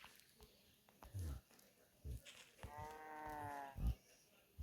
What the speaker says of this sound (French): j'ai eu peur d'une vache